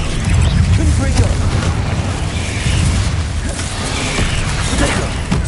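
Fire and explosive spell blasts in the wizarding video game Hogwarts Legacy boom and burst in a dense, loud, continuous rumble, with a voice speaking over them.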